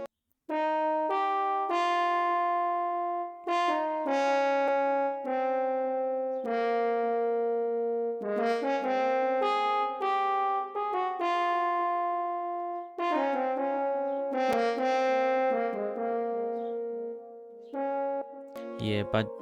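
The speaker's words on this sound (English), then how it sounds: "Yeah, it's Purity French horn." Synthesized French horn from a Purity software instrument plays a sustained melodic line of held notes and chords in an Afrobeat-style beat intro, steady and clear with no talking.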